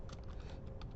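Typing on a computer keyboard, a faint quick patter of several soft key taps in a brief burst, heard alone in a quiet room.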